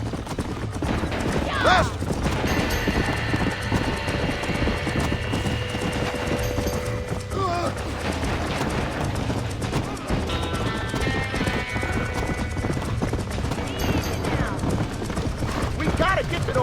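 Hooves clatter in a rapid galloping rhythm throughout, with a horse whinnying and people shouting over the busy, crackling commotion of a burning barn in the video game Red Dead Redemption.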